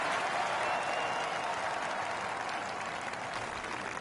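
Golf crowd in a PGA Tour video game cheering and applauding after an eagle chance, a steady wash of clapping from a distant gallery that holds for the whole stretch without voices.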